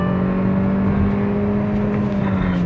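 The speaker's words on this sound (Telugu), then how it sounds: "6000 RPM వరకు రెవ్ అవుతుందండి." Steady engine drone of a Hyundai Verna accelerating, a sustained smooth hum with a low tonal whine holding through the stretch, heard from inside the car with no talk over it.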